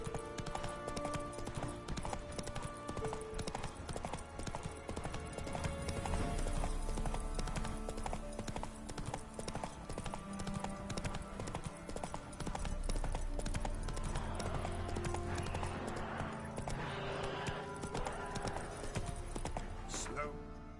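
Geralt's horse Roach trotting in The Witcher 3, a steady close clip-clop of hooves running throughout under a dense game soundtrack, with a brief whinny and voices talking over it.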